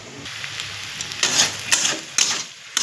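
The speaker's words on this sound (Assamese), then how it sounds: "বিনৰ গুটি, আলু এনেকুৱা মাছৰ তিতা দি ভাজিছোঁ" Bean seeds and potato fried with fish in a pan give a steady sizzle, broken by several louder stirring scrapes near the end, with no talking.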